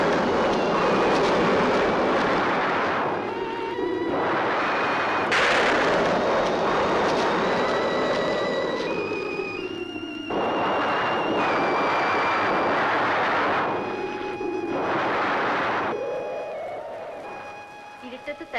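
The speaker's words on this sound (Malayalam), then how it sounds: "ഇടിയും മഴയും വരണുണ്ട്" Rolling thunder rumbles in long, heavy swells ahead of approaching rain, deep and loud, with several booming waves rising and fading across the clip.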